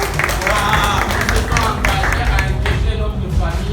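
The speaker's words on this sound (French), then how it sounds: "Applaudis-là." A church congregation claps in a lively, sustained round of applause mixed with crowd murmur, while a voice talks over it.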